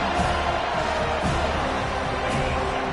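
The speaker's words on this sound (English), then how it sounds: "listen to this crowd noise. This stadium is vibrating." Steady, dense roar of a packed stadium crowd at a football game, continuous and loud throughout with a faint rise of cheering, no clear individual voices standing out.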